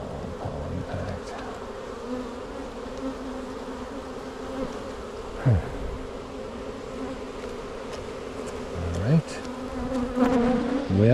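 Honey bees drone in a continuous close buzz during a hive inspection at the west apiary, with individual bees swooping past the ear and someone speaking one brief word.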